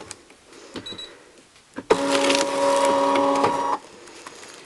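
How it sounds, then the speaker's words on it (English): A Brother ScanNCut cutting machine whirs and squeals loudly in one sustained, tonal burst of about two seconds, preceded by faint clicks and handling noises, with no talking. "It just wrinkled this and it made the machine squeal."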